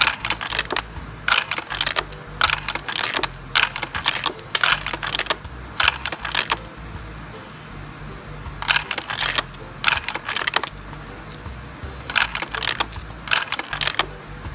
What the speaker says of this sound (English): You start inserting the coins.